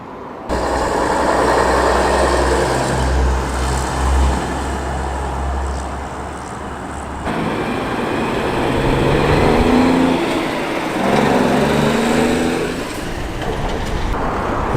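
A classic 1950s ERF lorry drives past on a road run, its engine a loud low diesel rumble that swells and fades, followed by passing traffic noise with a smaller van behind it.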